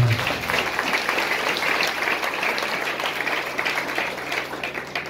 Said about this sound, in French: Combien de gens qui veulent applaudir pasteur Rico matin?